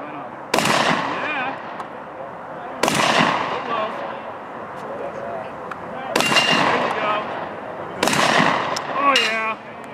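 Four loud, sharp shotgun blasts from a Genesis Arms Gen-12 fired at a steel plate rack, spaced a couple of seconds apart, each with a ringing tail over outdoor background noise.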